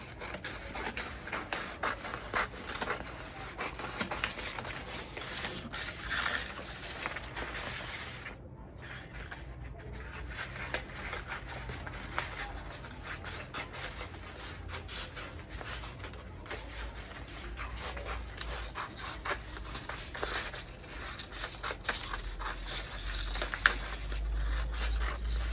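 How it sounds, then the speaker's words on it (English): Scissors cut through fabric for a corset yoke pattern piece in a long run of quiet, rapid snipping and crisp rustling, with a brief pause partway through. "Let me go ahead and cut out this yoke."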